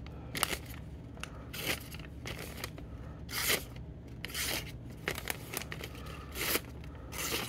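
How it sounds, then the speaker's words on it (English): A fixed-blade knife slicing through a stack of paper pharmacy receipts, giving repeated crisp tearing and crunching strokes in irregular bursts, close-up over a low background hum, with no talk. "Of course, it's not made for cutting paper."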